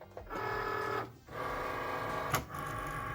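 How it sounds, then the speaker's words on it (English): A Cricut Maker feeds in heat transfer vinyl with a steady motorized whir in two runs, broken by a short pause and a clunk, close and fairly loud. "I'm going to get it loaded into my Cricut maker."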